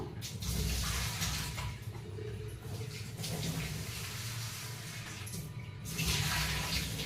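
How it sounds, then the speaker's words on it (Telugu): Tamarind being washed in water by hand, a continuous close splashing and swishing that swells and fades, with brighter bursts of running water near the start and end. "సో చక్కగా చింతపండు అయితే కడిగేస్తున్నాను"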